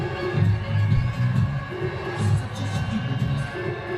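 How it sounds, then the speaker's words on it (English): Spectators at a Legends League Cricket T20 match between Mumbai Spartans and India Tigers cheer a boundary, a rolling wash of crowd noise that swells and dips, with a low rhythmic drumming or throbbing pulsing underneath. "you can hear the cheers from the crowd"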